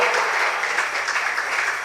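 A church congregation applauds together in a loud, dense wash of clapping that holds steady and close for the whole short stretch, with no distinct voices.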